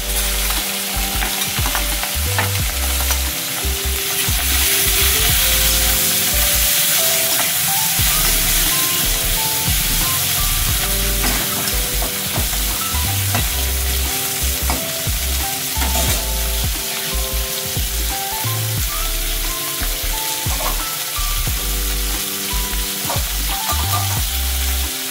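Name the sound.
shrimp frying in hot oil in a wok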